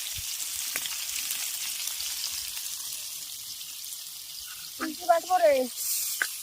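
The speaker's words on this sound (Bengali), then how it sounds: "এদিকে আমি মাছ ভাজছি" Fish fries in a pan with a steady, crackling sizzle that holds throughout, and a voice briefly speaks over it near the end.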